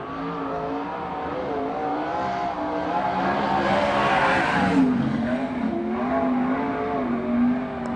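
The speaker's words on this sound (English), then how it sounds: "That is Sheridan on the track, car number 18" A 360 sprint car, number 18, runs a solo timed lap in a USAC/CRA sprint car event. The engine roars loud and rising and falling through the corners, with the pitch swelling and easing as the car passes.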